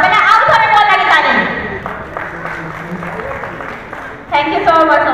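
A short burst of audience clapping rises in the middle of a Sambalpuri comedy skit, framed by loud voices before and after.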